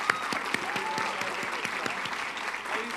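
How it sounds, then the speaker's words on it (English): Enthusiastic clapping from an awards ceremony audience, with individual claps standing out near the front and a faint murmur of crowd noise underneath. "Let's have another round of applause for our rising stars."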